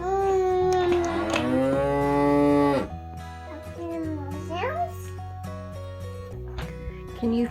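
Cows on a farm moo with long, drawn-out calls, a loud sustained low moo first and then a shorter, wavering one, heard over light background music.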